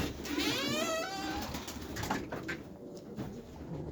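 Pigeons coo softly and repeatedly nearby over a noisy, rustling background.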